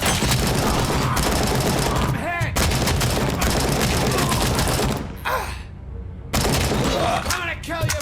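Submachine gun fire in RoboCop: Rogue City rattles in long, loud, sustained bursts, broken by a couple of brief pauses and a short lull near the end, with a voice heard faintly under the shooting.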